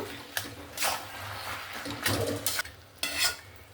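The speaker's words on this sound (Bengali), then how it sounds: "ঘাঁটিয়ে নেব" A spoon stirs a cooked cabbage and potato curry in a pan, giving several scraping, clattering strokes at a steady rhythm, close and fairly loud, with no talking.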